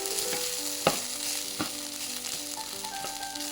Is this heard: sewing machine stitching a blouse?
no